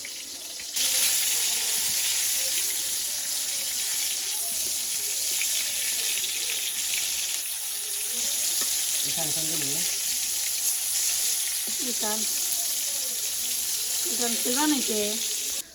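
Eggplant slices frying in a pan in a village kitchen, a continuous loud sizzle that starts abruptly and holds steady, with a voice speaking over it in the later part.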